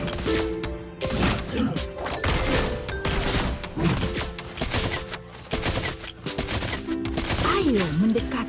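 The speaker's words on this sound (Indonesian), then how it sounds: "Satu tembakan, satu nyawa melayang." Gunfire from the hero Beatrix in the Mobile Legends video game, heard as loud, rapid bursts of repeated shots in quick succession, close and dense, with brief game effects sweeping near the end.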